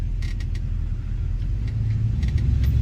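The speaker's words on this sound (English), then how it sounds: "We're just riding around through the neighborhoods, enjoying this little ride in the Fairlane" A 1966 Ford Fairlane cruising through neighborhood streets, steady low engine rumble with small creaks and rattles from the car body.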